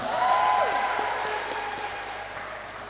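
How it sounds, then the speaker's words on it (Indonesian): Audience applause at a student council inauguration ceremony for FTK at UIN Ar-Raniry, a steady wash of clapping that peaks early and slowly tapers, fairly close and full. "tepuk tangan untuk kita semua"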